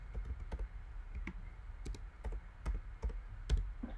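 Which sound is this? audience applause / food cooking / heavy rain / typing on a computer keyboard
typing on a computer keyboard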